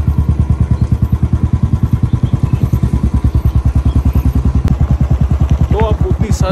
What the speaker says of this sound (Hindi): अब मैं बाइक निकाल के फार्म पे जाऊँगा। तो अभी मैं निकला हूँ अपने फार्म पे।